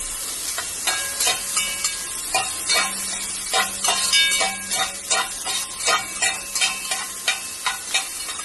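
Sliced onions fry in a pan for fish pulav while a spoon scrapes through them in a regular series of close, sharp stirring strokes over a soft background sizzle, with no voices.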